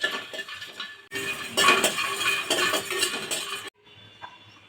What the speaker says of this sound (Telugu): అందులో 2 లవంగాలు, కొంచెం దాల్చిన చెక్క అయితే వేసాను. ఇవి వేయించుకుందాము.